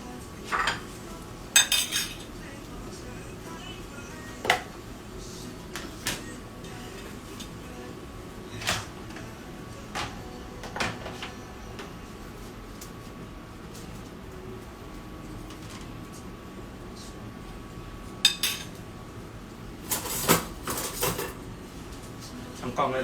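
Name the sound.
washing fried-rice residue off a pan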